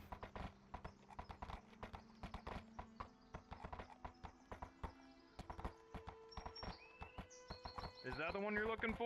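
Horse hooves clip-clop in a steady, even rhythm at moderate distance, with a faint whinny near the end and a few voices speaking alongside.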